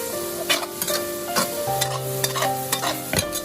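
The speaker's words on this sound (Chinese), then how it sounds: "接着把鸡蛋倒入锅中，再快速的翻炒均匀" Eggs stir-fried in a wok at home, with steady scraping and clattering strokes over a soft sizzle, several sharp metallic knocks standing out near and loud, and no talking.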